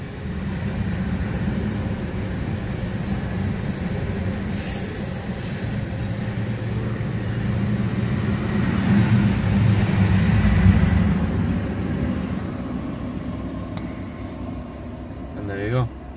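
A train rumbles past at a distance with a steady low roar that swells and fades, while people talk over it.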